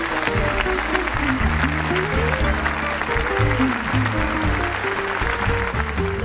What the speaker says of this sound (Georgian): შენიერი აპლოდისმენტები იყო